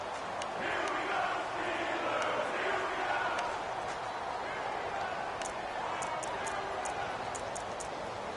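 A crowd roars in a video game football broadcast before a big third down, a dense, steady wash of cheering with faint ticks above it and a commentator speaking over it.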